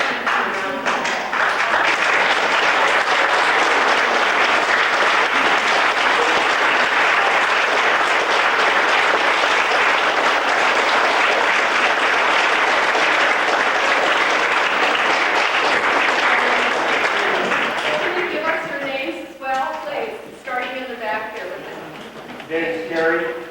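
Audience at a preservation committee's annual meeting gives a long, loud round of applause, dense continuous clapping that fades near the end into speech.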